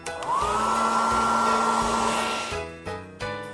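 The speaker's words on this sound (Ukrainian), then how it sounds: "Фен." A hair dryer whirs at a steady high pitch for a few seconds, then cuts off, followed by two short bursts as it is switched on and off again.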